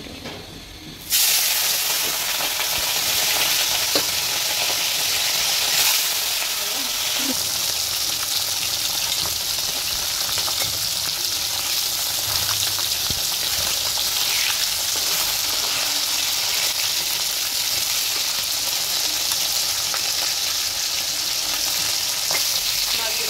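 Tengra fish fries in mustard oil in a pan. After a brief quiet start, a loud, steady, hissing sizzle surges up and continues unbroken at close range.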